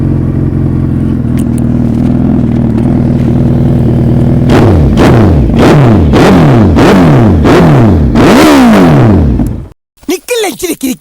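A Suzuki Hayabusa GSX 1300R motorcycle engine idles steadily, then is revved hard in a series of sharp, loud throttle blips with rising and falling whine, before cutting off into a few short bursts.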